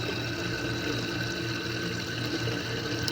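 Water steadily filling the cistern tank of an English-style commode toilet, a continuous close rushing and hissing flow with a low pump-like hum, no talking.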